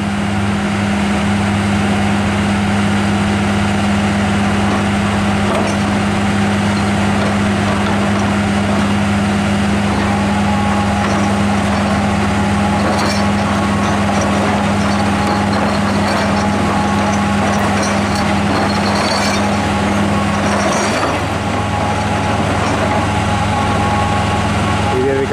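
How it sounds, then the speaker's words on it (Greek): Two drilling rigs work on piling at a construction site, giving a steady, loud mechanical drone with a constant low hum that runs unbroken for the whole stretch. "Δύο τρυπάνια συνεχίζουν τις εργασίες των σπασαλοπήξεων."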